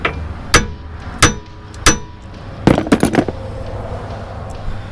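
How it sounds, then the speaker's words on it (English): A hammer strikes the ball joint on the front axle of a 2021 Honda Pioneer 520 utility vehicle. Three sharp, loud metallic blows ring out evenly spaced, followed by a quicker cluster of hits. "smack it right here with a hammer."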